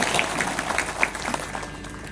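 A kirtan audience at a temple during a week-long devotional gathering claps hands together, a steady dense wash of applause with a few sharper claps standing out, fairly even and sustained throughout.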